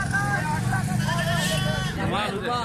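Rajanpuri goats and their three-day-old male kids bleat at a livestock market in Dera Ghazi Khan, wavering cries rising close by over steady crowd and traffic noise, with voices talking throughout.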